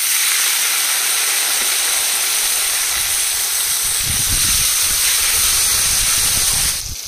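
Chopped tomato hits hot oil with onion in a pot for chicken biryani, giving a steady, loud hissing sizzle that swells briefly midway and then drops off near the end, with no talk.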